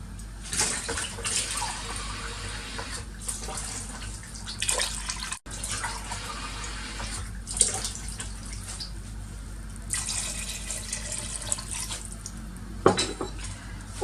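Water being added to a cooking pot on the stove in a home kitchen, a steady splashing pour with clinks of metal pot and utensils.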